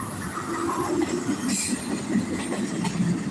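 A long freight train passing, its wheels rumbling and clattering over the rails with a brief high squeal, a steady close roll from start to finish.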